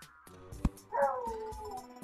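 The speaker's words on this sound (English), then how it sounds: "And there goes my dog." A pet dog indoors gives a short whimpering whine with a yip. It is faint and brief, after a soft thump.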